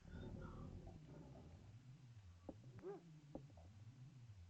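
A dog whimpers and yips in the SNES game Clock Tower, soft whining cries rising over a low steady background drone, with no talking.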